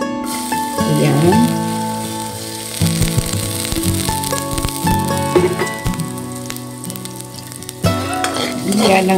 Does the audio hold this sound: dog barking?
no